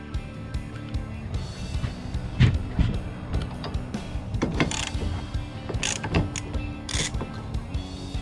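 Winding up the cable slack on an enclosed trailer ramp door, a busy run of close metallic clicks, ratcheting and clanks with scraping handling noise throughout, no talk.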